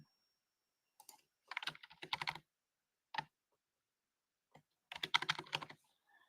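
Typing on a computer keyboard, short bursts of quick clacking keystrokes separated by silent pauses, close and clear, with no voices.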